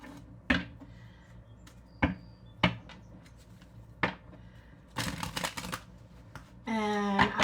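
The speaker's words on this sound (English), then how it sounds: "But you can hear me shuffling." Playing cards being shuffled by hand at a tabletop, a few sharp separate taps and riffles followed by a longer ruffling burst and a final buzzing riffle, close and fairly loud with no talk.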